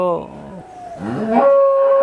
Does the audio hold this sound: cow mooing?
yes